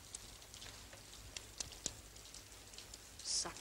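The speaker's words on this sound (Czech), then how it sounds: "Začíná pršet." Rain beginning to fall outdoors on a housing estate, scattered raindrops ticking and tapping on surfaces at irregular intervals over quiet background hiss.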